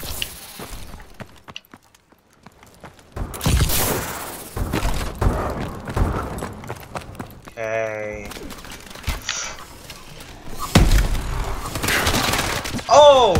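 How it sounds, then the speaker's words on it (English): Dual machine guns in the video game Call of Duty: Advanced Warfare firing in loud, rapid bursts between thuds and other game effects, with people talking over the action. "that guy used the freaking dual machine guns on me"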